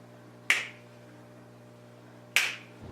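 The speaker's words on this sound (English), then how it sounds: "I wish I could just snap my fingers" Two crisp finger snaps about two seconds apart stand out against a steady low hum in an indoor room. Each snap is sharp and close.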